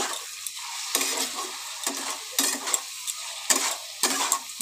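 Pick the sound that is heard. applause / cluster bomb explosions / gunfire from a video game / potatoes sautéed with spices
potatoes sautéed with spices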